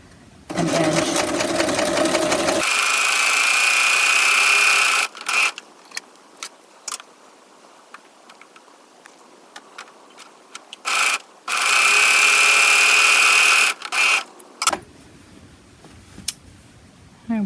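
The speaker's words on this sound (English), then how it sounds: "Edges of the day dress sleeve, I'm going to serge an edge." A serger sewing machine overlocks the edge of a dress sleeve on a doll project, running in two long, steady whirring bursts with brief clicks and handling noises in between.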